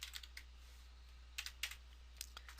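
Typing on a computer keyboard to enter text into a web page, a handful of light, close key clicks in an irregular sequence with quiet pauses between them, no voice.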